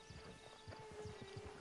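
Horse hooves in a PS4 video game, a steady rhythmic clip-clop of a horse walking, faint under a steady musical tone.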